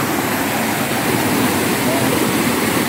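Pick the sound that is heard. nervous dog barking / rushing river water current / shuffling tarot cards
rushing river water current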